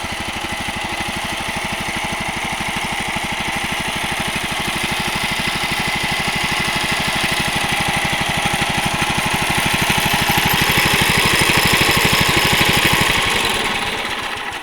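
A two-cylinder Wisconsin Model TF engine with electric start, on a 1950 Mead Mighty Mouse MM5, runs steadily up close with a loud, even chugging throb that rises slightly in pitch near the end.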